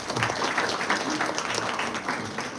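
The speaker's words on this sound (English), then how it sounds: "Please give our Oromites a huge round of applause." A student audience at a school debate event applauds in a dense, steady wash of clapping, fairly loud and continuous, with faint voices mixed in.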